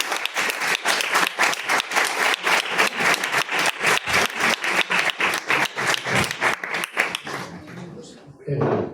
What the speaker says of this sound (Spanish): Con un muy fuerte aplauso